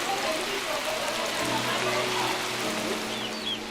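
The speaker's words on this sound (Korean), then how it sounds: "빗줄기가 쏟아집니다." Heavy rain pouring down in a steady, dense hiss that fills the whole clip evenly, loud and close, with a faint low hum underneath.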